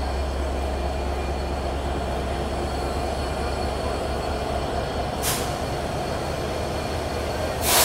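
A broad gauge BP32 diesel-electric locomotive numbered 6333, built by American Progressive, rumbles on with a steady train roar and rail noise at a moderate distance, with two brief sharp hissing bursts near the end.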